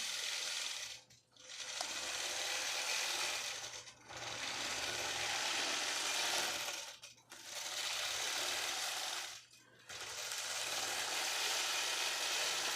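A quilting machine stitches a design at a quilt show, running in long, loud, steady whirring bursts with about four short pauses between them.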